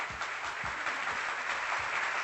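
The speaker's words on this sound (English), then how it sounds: "Let's give them a roaring round of applause tonight" Crowd applause at a live show in a Screwballs venue in King of Prussia, a broad steady wash of many hands clapping close and fairly loud, with low thumps from the room underneath.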